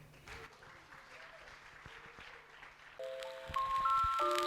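Audience at a regional school team competition gives soft, spread-out applause, and sustained musical tones come in over the last second and a half.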